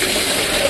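Water gushes steadily over Landrace pigs and their pen during washing, a loud, continuous rushing splash heard up close with no talk.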